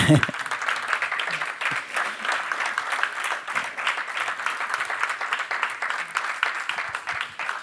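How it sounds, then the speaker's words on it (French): Audience applause after a conference presentation on the Frogans addressing system, steady dense clapping lasting the whole stretch at even loudness, with some voices mixed in beneath it. "je vais demander de les applaudir"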